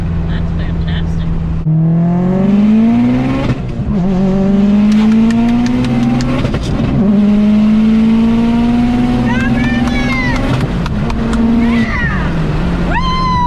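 An 800-horsepower Subaru STi accelerates hard through several gears, its engine pitch climbing in long loud sweeps with brief dips at each shift, close and powerful, ending in crackling pops.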